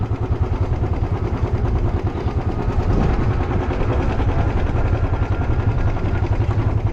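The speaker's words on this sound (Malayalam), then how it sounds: "ബൈക്ക്" A motorcycle ridden uphill along a hill road toward Munderi, its engine a loud, close, steady low drone with a rapid pulsing rhythm throughout.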